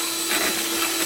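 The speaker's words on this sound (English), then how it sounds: "you whisk until it's completely incorporated" A steady, loud electric mixer motor whirs with a high-pitched hum, slightly pulsing as beaters churn egg whites, with no voices over it.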